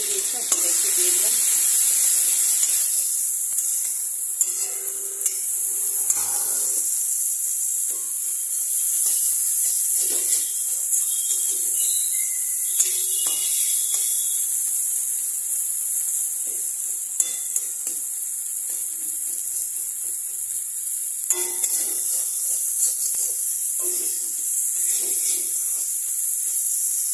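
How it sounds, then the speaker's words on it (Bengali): Onion and green chilli sizzle steadily in hot oil in a pan, a continuous bright frying hiss with occasional stirring scrapes throughout. "এবার আমি এখানে যে পেঁয়াজ আর কাঁচা লঙ্কাটা রেডি করে রেখে দিয়েছিলাম সেটা একটু দিয়ে দিলাম"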